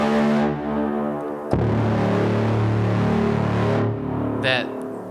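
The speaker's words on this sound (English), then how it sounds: "That pulsating sound you heard in the trailer" A deep, sustained cinematic drone with layered tonal hum hits suddenly and holds steady for a few seconds, then fades, followed by a brief swishing accent.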